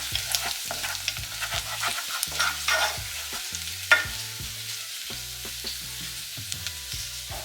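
Garlic sautéing in butter over medium heat in a pan, a steady soft sizzle with sharp clicks and scrapes of stirring, heard close without speech.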